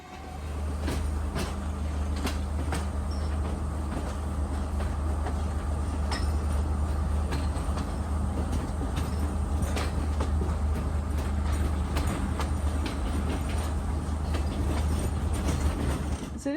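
A passenger train in Sri Lanka, on the Kandy to Ella route, rumbles steadily along the rails, with a low continuous drone and regular clicking from the wheels over track joints, heard from inside.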